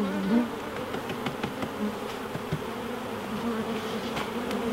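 Honey bees buzz densely and continuously around a hive at close range during installation of nucs in spring, with a few faint clicks of equipment and no talk.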